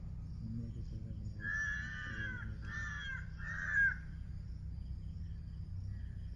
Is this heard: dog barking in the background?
no